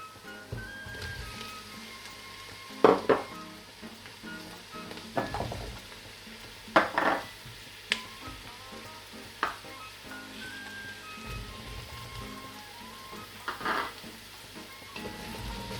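Potatoes, carrots and sweet potato sizzle in a pan with softened onions while a fish and vegetable soup is being made. A steady, quiet frying hiss runs throughout, broken by occasional stirring scrapes and clinks, with no talk.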